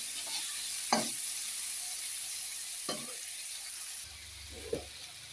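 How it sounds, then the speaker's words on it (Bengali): A spice paste with chopped tomato is stirred and fried in a pan for a chicken dish, giving a soft, steady sizzle broken by three scraping spoon strokes spaced a couple of seconds apart. "দিয়ে দেব টমেটো কুচি, ভালো করে নাড়িয়ে নিয়ে একটু ভেজে নেব মশলাটা।"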